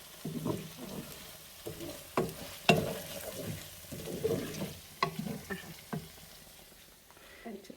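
Chili garlic sauce hitting Chinese eggplant in a hot pan, with a steady sizzle and repeated scraping stirs up close, in uneven bursts.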